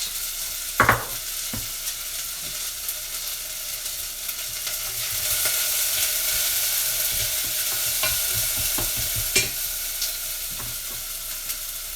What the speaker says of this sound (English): So I'm cooking that red onion just for a couple of minutes and I'm going to add coriander and cumin.